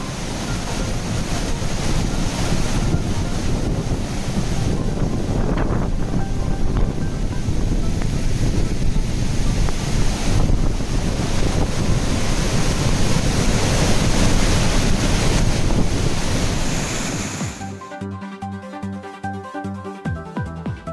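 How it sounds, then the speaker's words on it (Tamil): Flood water at the Courtallam waterfalls roars in a loud, steady, dense rush for about seventeen seconds, then cuts off abruptly as tonal music takes over. "குற்றால அருவிகளில் வரலாறு காணாத அளவில் பெருக்கெடுக்கும் வெள்ளம்."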